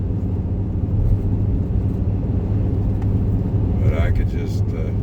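A car drives through forest country in Lincoln National Forest, heard as a steady, close, low road and engine rumble from inside, with a faint voice near the end.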